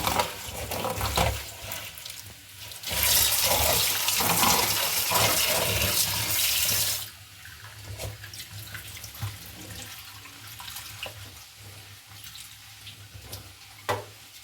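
Roadside drumstick leaves rinsed in a basin of water to wash off dust: a loud splashing, pouring burst in the middle, then quieter sloshing and drips, with no talk.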